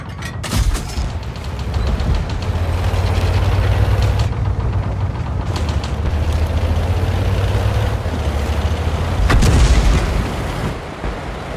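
A 14TP tank's gun booms loudly in a video game near the start and again later, over a constant low engine drone and rattling clatter.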